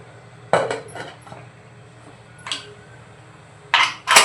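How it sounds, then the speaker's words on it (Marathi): A metal pressure cooker lid clatters into place on the pot in a few short clanks and knocks, separated by quiet pauses, close by. "आणि कुकरचं झाकण लावून घेऊया."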